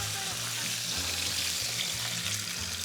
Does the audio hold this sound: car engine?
no